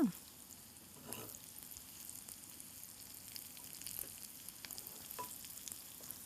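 A healthy evening snack cooking in a pan over a slow flame, giving a soft, steady sizzle with a few light stirring scrapes, close and fairly quiet with no talking.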